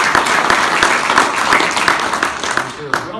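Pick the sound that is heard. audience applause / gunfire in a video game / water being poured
audience applause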